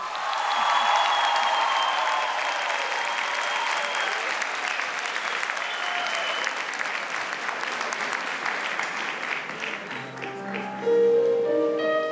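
A large audience claps loudly and steadily for a singer introduced on stage at a televised Turkish TEMA Foundation 25th anniversary concert, fading slightly as instrumental music begins near the end.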